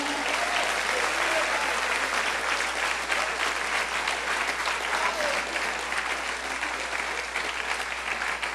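A church congregation in Paranaguá, Brazil, applauds during an afternoon service, with steady, dense clapping that holds strong and close for the whole stretch and no one speaking over it.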